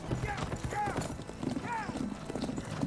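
Horse hooves clip-clopping in a House of the Dragon scene, a quick run of hoof falls heard under overlapping talk.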